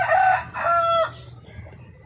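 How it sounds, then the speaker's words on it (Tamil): A Sonali native chicken crows on a farm near Salem: one loud, close crow in two strong bursts, then a fading tail over quiet yard noise. "சொனாலி நாட்டுக்கோழி வந்துட்டு இப்போ ஒரு 50 ஜோடி இருக்குது நம்மக்கிட்ட."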